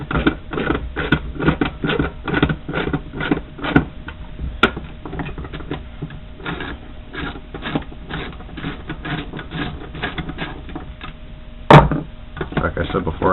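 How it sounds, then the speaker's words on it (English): A ratchet wrench with a 5/16 socket loosens the through bolts on a 10SI or 12SI alternator, rapid repeated clicking bursts close up across the stretch, with one sharper metallic knock near the end. "5/16 for the through bolts. Helps if you have the ratchet going the right way."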